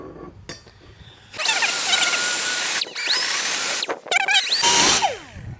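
A drill bit cuts out a stepped bushing in a 6L90e transmission, whining loudly in several long close bursts with short pauses between them and a final shorter run.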